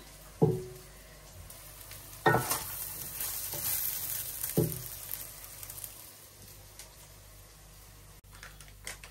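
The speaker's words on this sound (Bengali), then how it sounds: "এখন ভালোভাবে চালটা কষাই নেই" Rice stir-fried in a pot with spices for chicken biryani gives a soft continuous sizzle, broken by three sharp scraping stirs of a spoon against the pot, close and fairly quiet.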